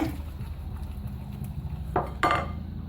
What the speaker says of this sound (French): il faut bien mélanger énergiquement